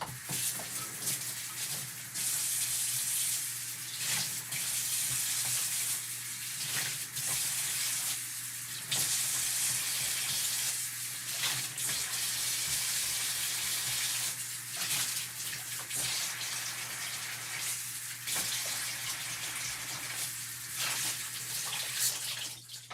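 Steady hiss of water running from a sink tap, continuous and fairly close for the whole stretch, with no talking.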